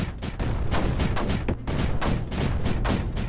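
Mortars and other weapons fire in the tower-defense video game Creeper World 4, heard as a dense, loud run of rapid gunfire-like bursts and booms packed closely together.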